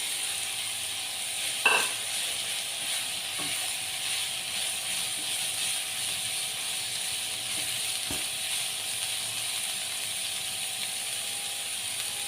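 Cabbage and chicken stir-frying in a pan for a chicken BBQ rice dish, a steady broadband sizzle running throughout, with a single sharp clank of a utensil early on and another brief knock later, no talking.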